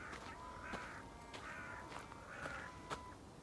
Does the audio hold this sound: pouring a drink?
no